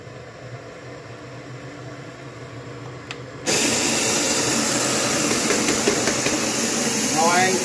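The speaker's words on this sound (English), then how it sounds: "grinding the beans." An electric grinder whirs to life grinding coffee beans in a home kitchen, a steady close whine and rattle that starts abruptly after a quiet room hum and runs on without pause.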